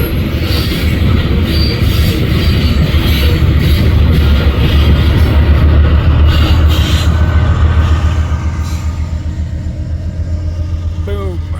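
A long freight train on the Omaha sub at Fremont, Nebraska rolls past close by with its rear DPU locomotive, a loud steady rumble of wheels and engine that eases slightly toward the end, with a brief squeal near the close.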